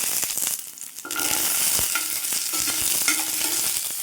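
Ginger, garlic and shallots sauté in a hot pan for a chutney, giving a steady, close sizzle with scraping stirs that grows fuller after the first second and continues without pause.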